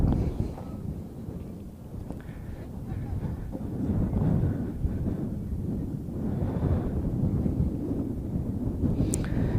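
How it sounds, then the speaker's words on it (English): Strong wind buffets the microphone at an outdoor cricket match in rough, rumbling gusts, a continuous low roar that swells and eases, with no clear voices. "I'm sure the camera is picking up a lot of wind noise as well"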